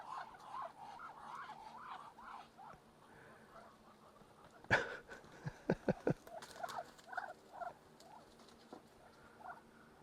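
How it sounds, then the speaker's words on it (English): Ducks chatter with soft, repeated quacks and murmurs, punctuated midway by a short burst of sharper splashing or flapping sounds. "I haven't really showed the ducks lately, but here's 5 of them."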